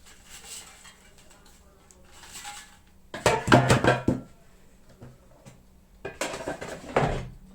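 Fried potatoes are stirred and tossed in the metal basket of a Sem oil-free hot air fryer, giving two bursts of clattering, scraping metal close by between quieter stretches, with some talk in the background.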